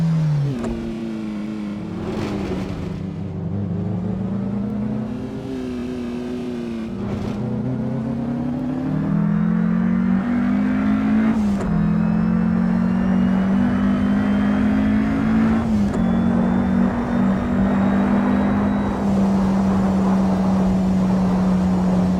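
In the Assetto Corsa game, a Porsche 550A RS Spyder drives the reworked Isle of Man circuit. Its engine note climbs and drops through repeated gear changes, rising in pitch and staying loud and continuous throughout.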